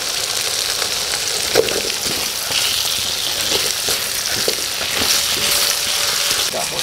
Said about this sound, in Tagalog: habang hindi pa naubos yung butter, lagay na po natin yung mga hinihiwa natin patatas.